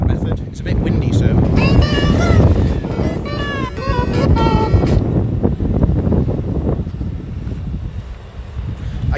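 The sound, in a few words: wind blowing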